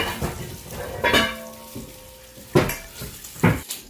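Chicken pieces sautéing in olive oil in a pan, soft sizzling under several sharp clinks and scrapes of a utensil against the pan, with no speech.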